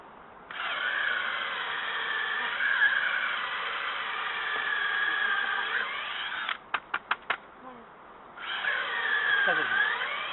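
Power drill whirring loudly into wet wood on a mountainside stilt cabin build, in long sustained runs, broken by a few quick bursts of short trigger pulses before spinning up again.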